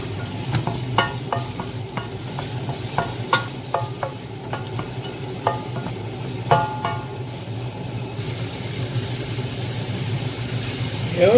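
Mushrooms fry in a pan with cooked onion for a chicken teriyaki stir-fry, a low steady sizzle broken by repeated scraping strokes of a spatula stirring them at close range.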